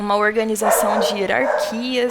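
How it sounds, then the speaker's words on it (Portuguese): A dog barks and yips in short bursts close by, its voice mixed under someone talking continuously indoors. "desculpe pelo cachorro"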